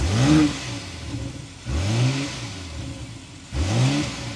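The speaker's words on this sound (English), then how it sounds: "we need to go inside, start it up, so you can hear that exhaust note." A BMW X5 sDrive40i SUV engine starts and revs three times in rising bursts, each swelling then settling into a throaty exhaust idle, heard close and loud.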